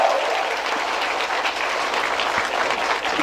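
A crowd at a pool match in the 2025 Predator WPA Men's 10-Ball World Championship claps in continuous, dense applause that stays steady and fairly loud throughout.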